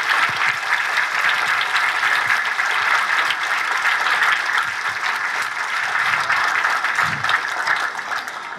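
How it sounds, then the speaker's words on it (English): An elementary school audience claps for standing parents, a dense, loud, sustained round of applause that runs for several seconds before slowly thinning. "let's have those parents stand and give them a big round of applause."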